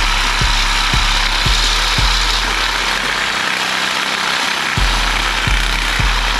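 Power saw grinding steadily through a hardened cast iron exhaust on a diesel BMW X5, a loud continuous drone with a low engine-like hum and periodic knocking pulses, briefly easing midway before resuming.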